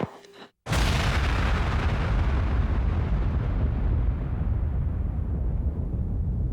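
Aircraft-dropped bombs exploding: after a brief quiet gap, a sudden heavy boom gives way to a long, loud, rumbling roar that slowly fades over several seconds.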